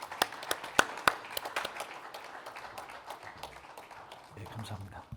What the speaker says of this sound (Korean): 박수로 또 격려해 주시고 축복해 주시기 바랍니다